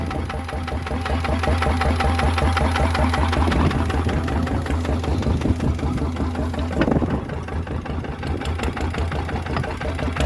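A red Suzuki motorcycle engine idles steadily up close, with a continuous low throb and a slight ticking rhythm that holds for the whole stretch; a short burst of revving or handling noise rises near the middle.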